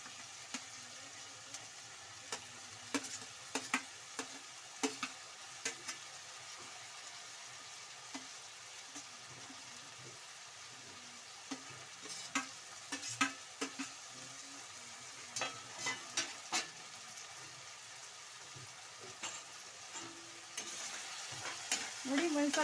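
Chopped eggplant and tomato stirred and frying in a pan for vangi bath, a steady soft sizzle with repeated scraping clicks of the spoon, close and moderately quiet.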